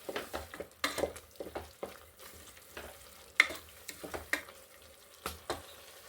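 Spinach puree sautéing in a pan, partly precooked, with soft sizzling under a steady run of scraping stirs and light utensil clicks against the pan.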